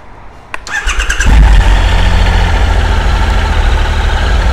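A Triumph motorcycle engine starts up with a short cranking burst, then catches and settles into a loud, steady idle that fills the rest of the clip.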